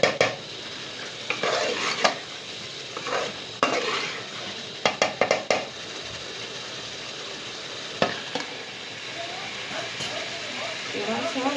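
Ginger garlic paste frying in a pan for a village-style chicken curry, with irregular scraping stirs and clinks of a spoon on metal over a soft steady sizzle, close and moderately loud, with no talk.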